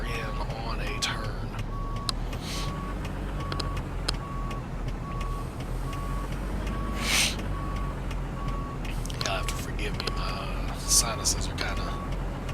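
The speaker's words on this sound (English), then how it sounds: "I'm gonna have to literally back this trailer in on a turn." A truck backing a trailer in American Truck Simulator gives a steady, regularly pulsing reversing beep over a low engine rumble, with occasional hiss bursts and someone talking throughout.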